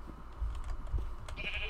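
A sheep bleats in the video game Minecraft, a short nasal call near the end over faint background thumps and game noise.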